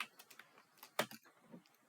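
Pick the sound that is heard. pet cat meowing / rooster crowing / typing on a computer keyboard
typing on a computer keyboard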